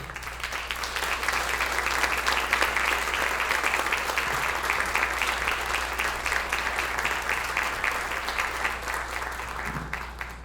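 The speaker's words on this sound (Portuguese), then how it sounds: "Uma salva de palmas para ela." An audience applauds biographer Jeane de Castro as she is called to the stage at a piano event, a dense, even clapping that carries for about ten seconds over a low steady hum.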